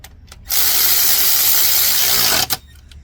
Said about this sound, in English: on the other side we'll use our 17mm socket with the ratchet just to speed up the process